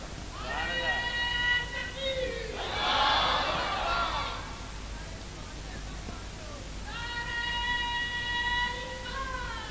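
A crowd at a religious gathering shouts slogans like nara takbir and nara risalat in answering bursts, loud cries rising then fading, with voices and a leader's calls mixed in.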